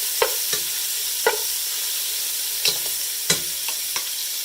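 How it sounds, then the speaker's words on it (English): Salt pork browning in canola oil in a pan, a steady faint sizzle broken by a few sharp scrapes or pops spaced irregularly, with no talking. "This is the salt pork, nicely browning in an oiled pan."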